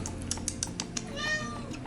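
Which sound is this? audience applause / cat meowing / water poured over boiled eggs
cat meowing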